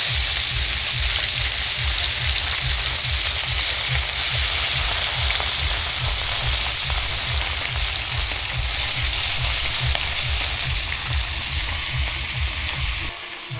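Fish from a village wetland frying in a pan, giving a dense steady sizzle with a bubbling crackle that stays loud and even throughout, with no talk.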